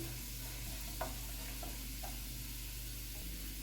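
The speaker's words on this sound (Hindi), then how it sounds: "इसमें चॉप किया हुआ लहसुन डालेंगे, इसको गोल्डन फ्राई करेंगे" Steady sizzling of chopped garlic frying in hot oil, a constant hiss with a few soft stirring clicks, close by.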